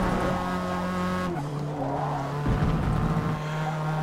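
A race car in Forza Motorsport slides and skids, its engine droning while tires squeal. Pitch drops abruptly partway through, then the engine rises again, loud and near.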